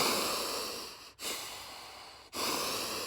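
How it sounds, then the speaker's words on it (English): Deep Wim Hof breathwork is done outdoors while sitting on grass near melting snow. A long, close, steady rush of breath is broken by two brief pauses where the breath turns over between inhaling and exhaling. "I'm gonna breathe in and out."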